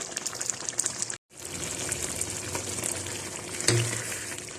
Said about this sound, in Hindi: थोड़ा सा पानी खुश्क कर लेते हैं।